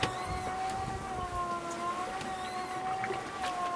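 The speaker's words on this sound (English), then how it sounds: "that noise you hear in the background is our trusty water maker" A watermaker runs aboard a cruising sailboat at sea, giving a steady mechanical hum with a sustained whining tone, constant and moderately loud, with no talking.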